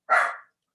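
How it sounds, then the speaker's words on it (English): A single short dog bark sounds fairly close and clear, then silence. "sorry about the barking."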